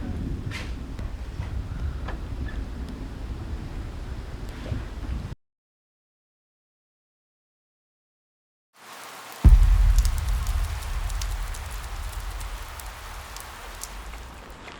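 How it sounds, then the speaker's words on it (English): Steady rain falling during an ultra marathon run through Wales, a constant patter on surfaces with scattered drops; it breaks off into silence for several seconds, then returns with a thump and continues. "Looks like it'll be raining all the way into Cardiff now."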